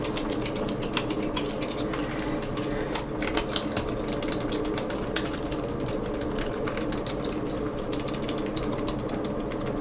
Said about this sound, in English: Flip it on upside down, mash the keys.